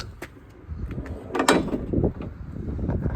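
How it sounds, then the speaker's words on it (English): Van door opening, heard as a string of mechanical clicks and a louder latch clack near the middle, followed by sliding rumble and rattle at close range with no speech. "at least the door opens, right?"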